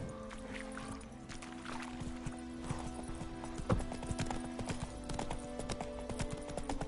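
Roach, Geralt's horse in The Witcher 3: Wild Hunt, gallops with a steady, rapid clip-clop of hooves on a dirt road, close and continuous beneath an ambient game soundscape.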